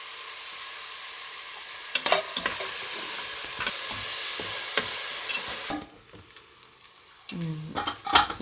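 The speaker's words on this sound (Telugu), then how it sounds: "ఉల్లిపాయ వేగిపోయిందండి." Onions frying with curry leaves and turmeric for a spinach mutton curry crackle in a pan, a steady close sizzle with spatula scrapes and clacks, then the frying drops quieter near the end before more stirring knocks.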